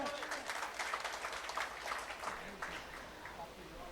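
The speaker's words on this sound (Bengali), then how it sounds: "আপনার করতালি দেন।" Scattered audience clapping at an oath-taking ceremony for a traders' association's newly elected committee. The applause comes in uneven bursts of moderate loudness, with voices mixed in.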